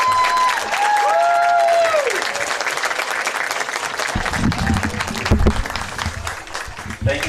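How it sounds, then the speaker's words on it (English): A crowd at a high school football game applauds seniors and their parents, sustained clapping with scattered cheers filling the air, whistle-like tones early on and louder, closer clapping toward the end. "Let's give them and their parents a big round of applause."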